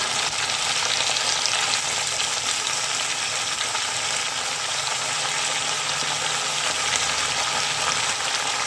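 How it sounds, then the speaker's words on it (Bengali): Spinach stems fry in a pan, unsalted, for a Bengali-style spinach stem and eggplant dish, giving a loud, dense, even sizzle that holds steady throughout with no talk. "লবণ ছাড়াই একটু ভেজে নিচ্ছি দু এক মিনিট"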